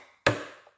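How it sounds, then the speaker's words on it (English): One sharp, close crack as the back of a knife smashes through a crab shell, followed by a brief fading rattle. "crack it with the back of the knife."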